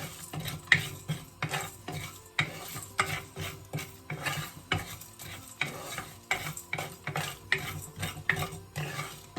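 Spices being stirred in a cooking pot for beef pilau, a steady rhythmic scraping of a utensil against the metal with soft frying sizzle underneath, close and moderately loud, with no talking.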